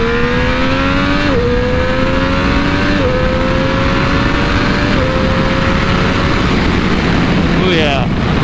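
A 2020 Triumph Daytona 765 motorcycle pulls hard in second gear, its engine note rising in a steady whine with brief dips at the shifts. Heavy wind roar runs underneath, and a rider's voice can be heard.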